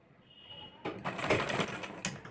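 Sewing machine stitching along a blouse edge: a close, rapid mechanical whirring run that starts after a brief quiet moment and continues steadily to the end, with no talking.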